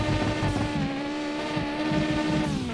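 A noisy car in the driving game Mon Bazou with backfiring exhaust, a loud, steady engine drone with wavering pitch and rough low rumble, heard without talk.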